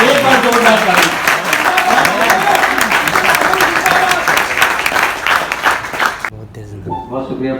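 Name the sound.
audience applause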